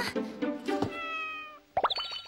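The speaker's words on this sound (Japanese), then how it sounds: "やだ、何この猫。" A cat meows in a few drawn-out, tonal cries close by, followed by a quick cluster of short chirping mews.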